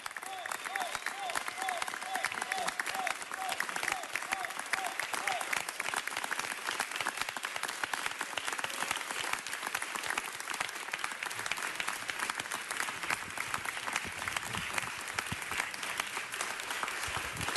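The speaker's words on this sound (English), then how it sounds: "let's give the senator one more large round of applause" A large audience gives a senator a long, sustained round of applause at a formal event, dense, even clapping that continues steadily throughout with crowd noise mixed in.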